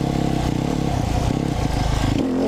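A motorcycle revs hard and close while rising into a standing wheelie, the engine roaring with a rough, fluctuating note, then easing off near the end as the rider brakes.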